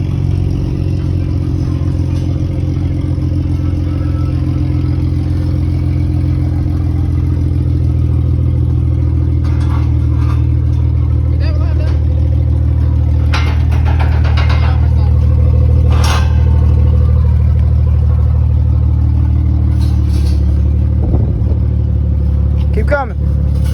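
A car engine idles and rumbles steadily up close while the car is turned around on a trailer at a Buc-ee's car meet, a continuous low drone with occasional clatter and faint voices.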